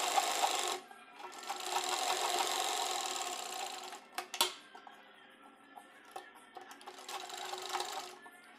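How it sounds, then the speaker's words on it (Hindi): A sewing machine stitches a buckram strip onto a dhoti salwar, its motor running in long continuous bursts with brief pauses and a few sharp clicks between runs. "अब हम बुकरम को यहाँ से अटैच करेंगे और इस तरह से सिलाई कर देंगे"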